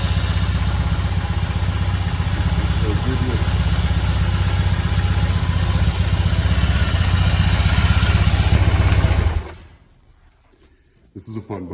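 A BMW motorcycle engine idles loudly and steadily with a low rumbling throb for about nine seconds, then cuts off abruptly, leaving near silence before faint sounds return.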